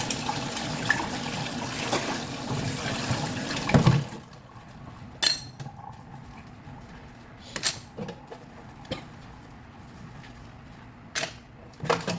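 Tap water runs steadily for a few seconds at home, then cuts off, leaving sparse drips and clinks of dishes in a quiet room.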